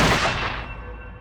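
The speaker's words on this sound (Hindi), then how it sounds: "ये गोली चलने की आवाज थी।" A single loud gunshot cracks close by, then rings out and fades over about a second.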